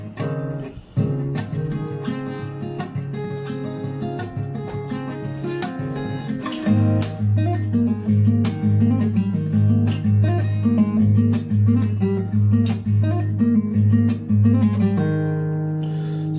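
Acoustic guitar covering a song, playing a short melodic solo fill after the last chord of the chorus, with ringing notes and a chord change midway, close and alone without talk.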